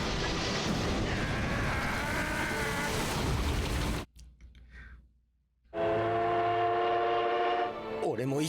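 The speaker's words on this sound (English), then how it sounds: "he definitely did not stop the train" A train's whistle and heavy rumble in a One Piece anime scene: loud broadband roar that cuts out abruptly, then a sustained tonal whistle with strong harmonics returns near the end over a low rumble.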